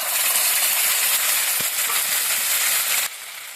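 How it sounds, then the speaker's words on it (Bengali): Ground spice paste fries in hot oil with cardamom and a pinch of asafoetida, giving a loud, steady hiss and sizzle that cuts down sharply near the end, with no voices. "দিয়ে আমি মশলাটা ভালো করে কষে নেব।"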